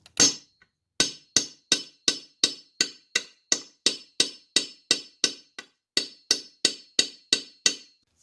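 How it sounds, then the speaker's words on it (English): A Remington 1100 shotgun feed latch is driven forward with light taps, about twenty crisp metallic taps at a steady, even rhythm, close and clear with no talk. "lightly tap on the back, continuing to drive the feed latch towards the front of the gun until the mark and the notch line up"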